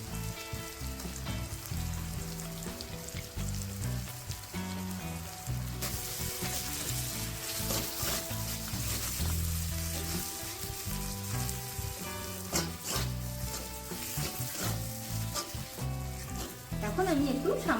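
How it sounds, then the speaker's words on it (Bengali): Cashew paste sizzling and frying steadily in a pan of spiced onion masala for chicken dopiaza, a continuous loud crackle with occasional stirring scrapes, steady throughout without talk. "এই মুহূর্তে আমি পেস্ট করে রাখা 2 চামচ কাজু বাদাম দিয়ে দেবো।"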